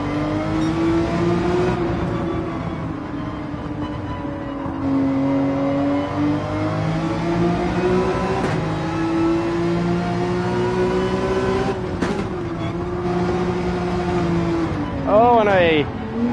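A race car's engine drones and shifts pitch continuously through a lap in the Gran Turismo 7 video game, rising and falling with throttle and braking, with a brief squeal near the end while someone talks over it.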